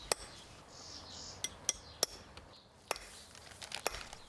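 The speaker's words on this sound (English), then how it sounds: "he hammers the pieces of silver, fitting them into distinctive silverware items" Sharp metallic hammer strikes ring out as pieces of silver are shaped into silverware, coming as isolated, irregularly spaced taps over a quiet, hissy background.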